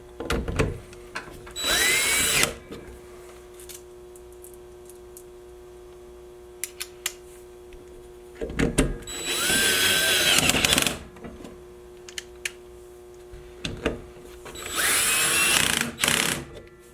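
A power drill drives fasteners to mount a garage door slide lock, three loud whirring bursts of about two seconds each, separated by quieter pauses with small clicks and handling noises.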